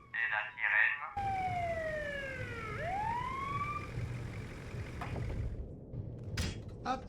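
Police-style siren wailing from an ambulance in a GTA RP role-play game, sweeping down and back up in a loud rising-falling tone after a brief burst of talk, over steady engine rumble.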